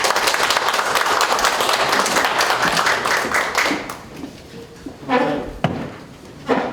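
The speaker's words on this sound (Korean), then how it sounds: "큰 박수로 환영해 주십시오." An audience at a Korean apartment reconstruction briefing claps loudly to welcome a speaker, sustained dense applause that thins out and gives way to a few knocks and handling noises while talk begins.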